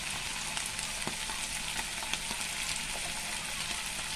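Saltfish, onions, scallion and sweet pepper fry in a pan for Jamaican ackee and saltfish, a dense continuous sizzle with faint scattered pops and light stirring knocks, steady and fairly quiet.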